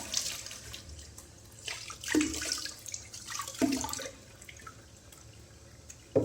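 A bathroom tap runs for a rinse after a shave with a razor and soap, a soft, uneven gush of water with a few splashes and brief clunks, close by and otherwise alone.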